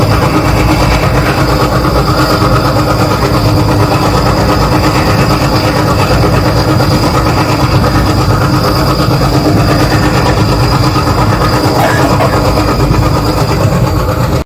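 A Chennai Central–Mumbai CSMT Superfast Express at Kurduwadi Junction rumbles loudly and steadily, with close clickety-clack of wheels on rail and a continuous engine drone, no voices.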